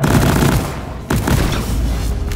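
Rapid bursts of gunfire from a solo engineer in Deep Rock Galactic, firing at a glyphic warden in a refinery mission, loud and dense with a brief pause before the shooting resumes.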